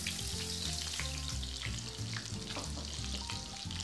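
Butter browning in a pan, a dense, steady sizzle and crackle close by, with faint tonal kitchen hum beneath, no voices.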